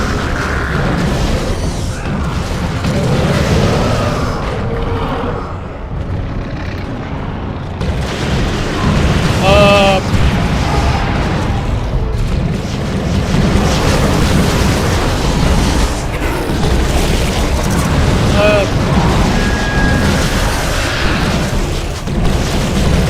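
Plague Marines in Dawn of War II erupt in loud, dense booming explosions amid continuous battle noise, a sustained rumbling wash of blasts and pops with no clear pauses.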